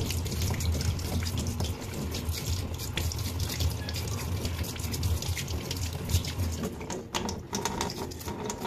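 Water runs from a washing machine's cleaned inlet valve in a steady rushing flow with irregular splashy crackles, close by and unbroken throughout, with no talk.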